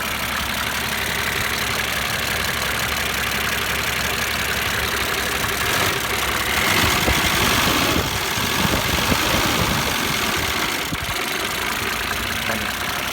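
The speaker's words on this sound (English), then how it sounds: "It runs beautifully, idles nicely." A 1980s or 90s Mercedes-Benz turbo diesel engine idles with a loud, steady clattering rumble, close and continuous, running alone without talk.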